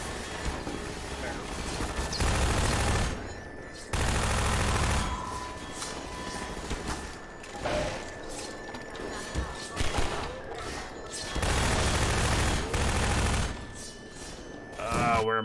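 Bursts of gunfire from shooting enemies in the video game Full Death 2 come in repeated loud volleys of rapid shots, separated by quieter gaps. Someone talks between the volleys and over them.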